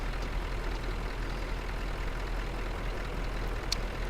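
A truck engine idling in Euro Truck Simulator 2, a steady low rumble that holds evenly throughout, close and alone with no talking.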